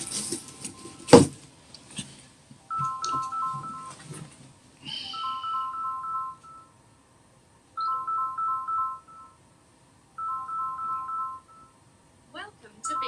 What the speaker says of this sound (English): my phone seems to be ringing